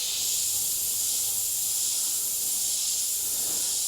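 Airbrush spraying paint for a freehand airbrushed eye, a steady close hiss that holds without a break for the whole short stretch.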